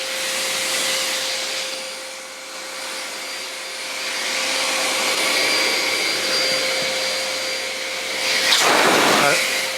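A Brühl motorcycle dryer blows air in a steady, loud whooshing roar with a fixed whine, swelling and easing slightly, then rising to a harsher burst near the end.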